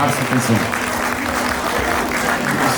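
Guests at a wedding clap for the couple in a sustained round of applause, with voices and a low hum of the hall carrying underneath the clapping.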